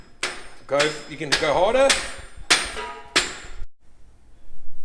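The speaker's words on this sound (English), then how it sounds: "as long as you use a rubber hammer" A rubber hammer strikes a metal rod being driven into a Force USA Monster G6 gym machine during installation, giving five sharp, ringing metallic knocks at an uneven pace, with a person speaking between the blows.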